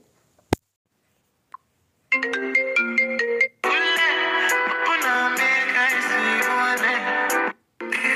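A phone ringtone plays alone: a short melodic tone pattern, a brief pause, then a fuller, louder musical ring that continues steadily before cutting off.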